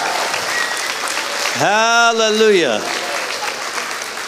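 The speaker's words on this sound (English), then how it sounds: "Give Jesus a big clap." A church congregation claps loudly and steadily throughout, with a single voice calling out briefly over the clapping partway through.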